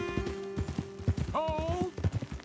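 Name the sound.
horses' hoofbeats in Red Dead Redemption 2 video game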